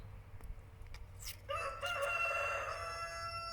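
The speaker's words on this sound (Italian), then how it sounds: "farvi sentire il canto dei galli" A rooster crows once, loud and drawn out, nearby, after a few soft clicks and rustles outdoors.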